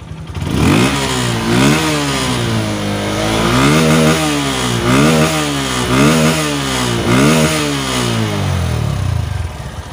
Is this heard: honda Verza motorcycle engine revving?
yes